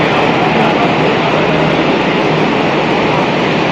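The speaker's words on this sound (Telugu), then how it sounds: "ట్రైన్ వస్తుంది" A Delhi Metro train pulls into the station with a loud, steady roar of wheels and motors that fills the space without a break, and no voices over it.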